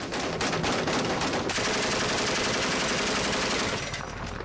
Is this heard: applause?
no